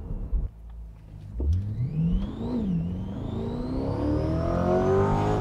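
Tuned supercharged C8 Corvette accelerating hard, its engine note climbing steadily through the revs with a brief dip at a shift before rising again, loud and close with no talking.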